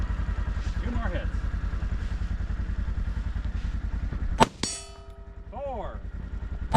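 A single sharp metallic clang rings out as a bullet strikes a steel target at a shooting match, leaving a ringing tone, over a motor's rumble and brief shouted voices.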